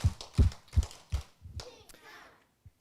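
Children at an elementary Sunday church service clap in a short rhythmic burst of about six sharp, close hand claps that taper off, with a brief quiet tap after.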